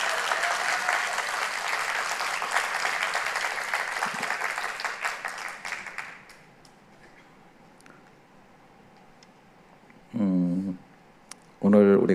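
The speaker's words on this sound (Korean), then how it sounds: "뜨거운 박수 한번 더" A church congregation claps warmly for a singer during Sunday worship, dense loud applause lasting about six seconds before fading, followed by a quiet pause and then a voice speaking.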